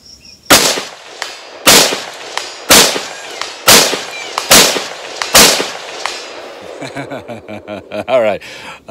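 Six loud, sharp gunshots ring out at roughly one-second intervals from a handgun with a heavy mil-spec trigger while a Swampfox Blade prism optic is tested, followed by a person talking.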